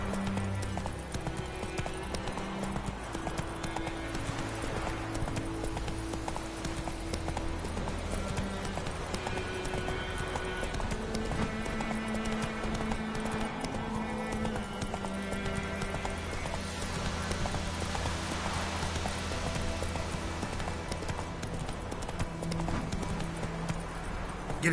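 Roach, the horse in The Witcher 3, gallops on and on with a constant rapid clip-clop of hooves, and an occasional whinny rises over continuous game sound.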